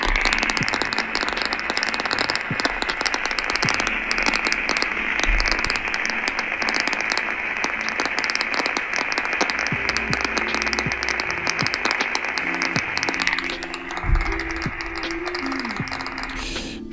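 A faulty rotating machine with impacts, its recording played back through a speaker held close to a microphone, gives a steady dense broadband roar with sharp crackling ticks throughout, loud and continuous for the whole stretch.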